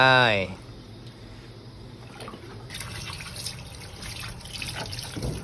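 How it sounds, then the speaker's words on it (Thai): Water pours steadily into a pot of fried curry paste for drumstick and snakehead fish curry, a continuous splashing trickle close by, after a brief voice at the start. "เติมน้ำลงไปครับ เติมน้ำลงไปเนาะ เทน้ำลงไป"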